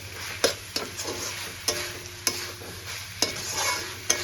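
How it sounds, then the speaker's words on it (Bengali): Fried egg and shrimp being stirred into chow mein noodles in a hot pan: sharp, evenly spaced scraping strokes of a spatula over a continuous close sizzle, with no voices. "এবার আমি ভেজে রাখা ডিমটা আর চিংড়ি মাছটা দিয়ে দেবো দিয়ে আমি মিক্স করে নেব"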